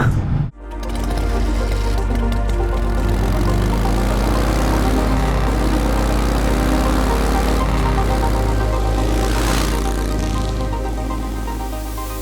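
A 2020 Honda CB650R motorcycle engine runs steadily and loud up close, a dense droning hum that holds level after a brief start, with no voices over it.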